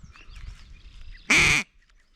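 A duck call wrapped in an old t-shirt and stuffed into the exhaust pipe of a 460 rwhp Chevrolet Caprice lets out one loud, brief quack-like honk amid quiet engine rumble.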